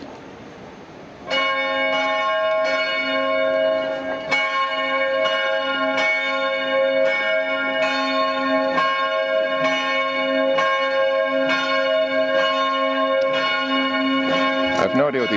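Church bells in Vienna peal steadily and loudly after a brief quieter lead-in, their strikes overlapping in a continuous, resonant ringing.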